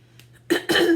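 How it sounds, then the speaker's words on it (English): Two short, harsh bursts of throat clearing, close to the microphone and quick in succession, with no words spoken. "I'm sorry, I keep clearing my throat."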